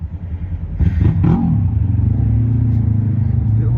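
A parallel twin beginner motorcycle engine revving nearby, a quick rising throttle blip then a steady rumbling idle with a throbbing rhythm, under faint talk.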